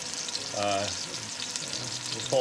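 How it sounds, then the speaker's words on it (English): Meatballs frying in a pan, browning before being flipped, give a steady close sizzle throughout, with a brief tonal blip partway through and near the end. "So we're gonna let those cook for a little while, and then when they get brown on all sides, I'll flip them around"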